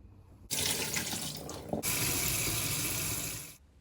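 Tap water runs loudly into a sink as drained soaked walnuts are rinsed. After a short pause it gushes again in a steady stream for a few seconds, then stops.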